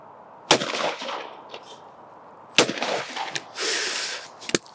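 A Blaser F16 shotgun fired outdoors in sharp, loud reports, two shots a couple of seconds apart and a third near the end, with echoing tails, faint background noise and a brief hiss between.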